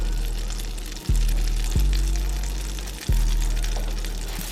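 Butter melts in a pot for a crawfish étouffée roux, giving a soft, steady sizzle with a few low knocks of the pot, close by and alone.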